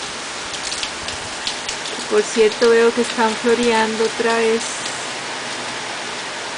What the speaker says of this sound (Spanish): Está lloviendo con viento de norte a sur.